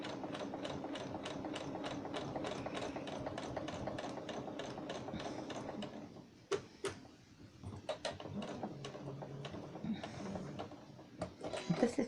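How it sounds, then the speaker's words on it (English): Sewing machine stitching fabric hearts for Valentine's Day hangings, running in a steady rapid whir for about six seconds, then stopping and restarting in short bursts with clicks and handling noises between. "realign and continue to sew round, moving the fabric as we go."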